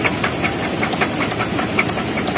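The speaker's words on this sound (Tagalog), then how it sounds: "Ito, knocking sound." A Dodge Charger's 3.6 Pentastar V6 knocks at idle, with a steady rapid metallic ticking riding over a continuous engine hum, heard up close and alone.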